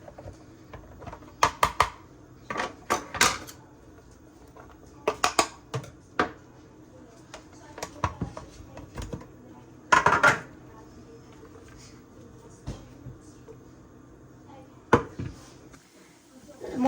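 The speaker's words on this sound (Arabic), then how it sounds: "دابا غندوز باش نقطع الفلفله." Sharp, irregular clicks and taps of a knife chopping a bell pepper on a cutting board in a home kitchen, coming in scattered clusters with quiet gaps between them.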